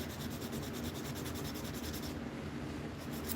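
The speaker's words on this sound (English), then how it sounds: "I feel much freer to work this sandpaper with that blade protected and my hand protected from it." Sandpaper rubs back and forth along a knife blade by hand in a continuous, close, rhythmic rasping scrape with no talking.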